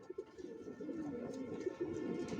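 Racing pigeons of the original Johnson line coo steadily in a loft, a continuous low, throaty murmur from several birds close by with no talking.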